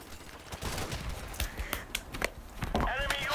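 Gunfire bursts from a multiplayer shooter video game during a gun battle, with rapid shots crackling under excited talk from a player.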